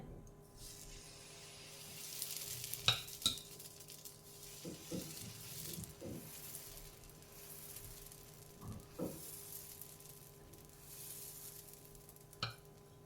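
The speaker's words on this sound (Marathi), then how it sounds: "आपण डोसा घालून घेऊया." Sponge dosa batter poured onto a hot griddle, giving a faint, low hiss with a few soft scrapes and clinks of a ladle, quiet and close with no talking.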